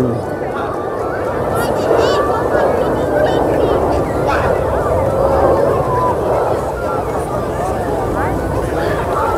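Birds honk and call repeatedly, overlapping in a busy chorus with steady background noise and faint voices mixed in, at a Red Arrows air display on the Isle of Man.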